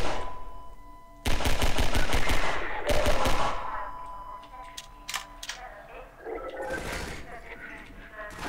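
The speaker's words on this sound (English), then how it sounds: "Oh, I can hear them. Who's shooting?" Enemy gunfire in the video game Half-Life 2, near and loud: a rapid automatic burst followed by more bursts and scattered single shots that fade into quieter game sounds.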